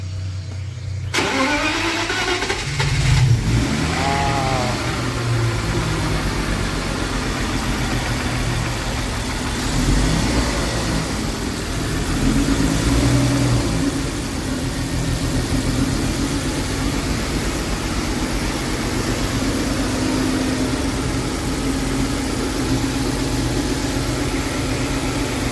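A car engine starts after a sensor replacement, then settles into a loud, steady idle that runs close by for a long stretch without speech.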